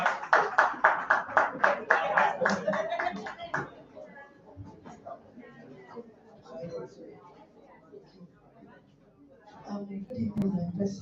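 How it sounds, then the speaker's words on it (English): Audience at a Rotary Club fifth-anniversary fellowship event claps in a rhythmic burst for several seconds. Quieter murmuring and talk follow, then a further stretch of voices near the end. "A round of applause"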